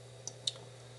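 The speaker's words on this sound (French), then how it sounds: "J'appuie sur la touche moins." Two light clicks from a computer keyboard key being pressed, close and quiet over a steady low hum.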